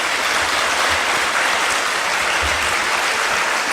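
Sustained applause from a lecture audience fills the room at a steady level, dense and continuous, with no talking over it.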